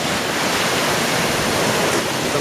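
Ocean surf breaking against lava rocks at the water's edge, a loud, close, continuous rushing roar of churning water.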